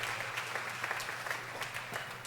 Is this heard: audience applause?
yes